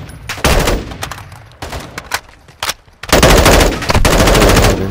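Automatic gunfire from Call of Duty DMZ, loud and close, coming in rapid bursts with short pauses and ending in a long sustained stream of shots.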